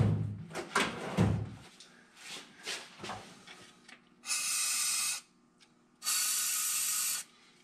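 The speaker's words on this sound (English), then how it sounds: "We'll give him the old spray lube." Two sustained hissing sprays of spray lubricant from an aerosol can onto the stuck engine of a 1949 Pontiac, each lasting about a second, following some clunks and rattles of handling.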